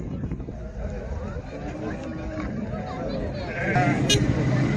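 Sheep bleat amid the crowd noise of a livestock market selling sheep, goats and cattle in Mashtaga, Azerbaijan, a steady murmur of voices and animal calls with a louder burst of bleating near the end.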